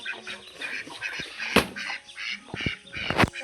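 A large domestic duck in a village yard gives a few loud, close quacks in short bursts, mixed with faint bird chatter in the background.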